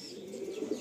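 Pigeons at a loft give soft, low cooing, close and quiet, over a brief stretch with faint background hiss.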